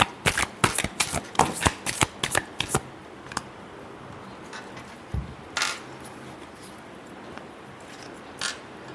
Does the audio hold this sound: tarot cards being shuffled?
yes